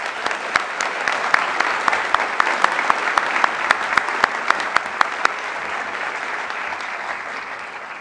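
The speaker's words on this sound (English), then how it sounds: "Let's give them all a round of applause." Steady applause from an audience at a university engineering induction ceremony, dense clapping with sharp individual claps standing out, filling the room without a break and easing only slightly toward the end.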